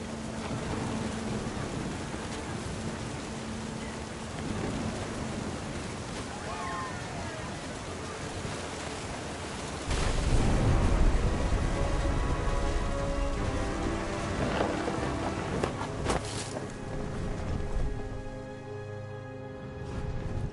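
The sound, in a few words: thunderstorm with rain in What Remains of Edith Finch video game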